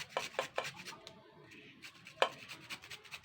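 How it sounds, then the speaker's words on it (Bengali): Carrot rubbed against a hand grater in a home kitchen, giving a series of short, scraping strokes in an irregular rhythm, close and fairly quiet, with no talking. "এইবার আমি এই গাজরটা কিন্তু এরকম কুড়ে নেব"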